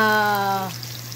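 Pork belly frying in a pan for a squash and string bean dish, heard as a close, steady sizzle; a brief tonal whine rides over it at first, then fades, leaving the hiss alone.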